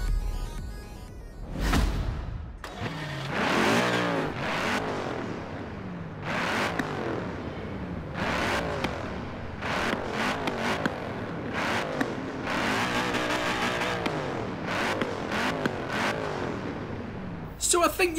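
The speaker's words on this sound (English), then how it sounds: "I want to hear how this big AMG twin turbo 4-litre V8 sounds in this thing." An Aston Martin Vantage's AMG twin-turbo 4-litre V8 in Forza Horizon 4 revs repeatedly through gear changes, roaring up and dropping back with pops and whooshes, over a steady stretch with talking.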